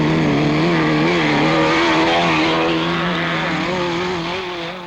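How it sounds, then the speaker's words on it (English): 1970s autocross race cars slide sideways across grass, engines revving hard with a wavering, strained whine that stays loud and close, then eases slightly toward the end. "Sideways motoring on grass is all part of autocross, and the drivers soon learn how to handle their cars like experts."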